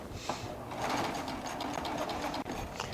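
Baby Lock Triumph sewing machine stitching medium-weight cotton quilting fabric with a ruffling foot that gathers it, a steady close mechanical whir with fast rhythmic needle chatter running nearly the whole time.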